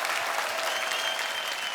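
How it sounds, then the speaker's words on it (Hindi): A studio audience on a Hindi comedy show gives the saxophone musicians a burst of thick, loud applause that stays steady and close from start to finish, with no talk over it. "इन सबके लिए एक बार जोरदार तालियां बजाएं।"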